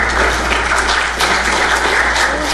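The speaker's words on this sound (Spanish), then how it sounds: "Los invitamos a ambos y los recibimos con un caluroso aplauso." Loud, warm applause from an audience greeting two speakers, a doctor and a licentiate, at a health conference, dense continuous clapping throughout.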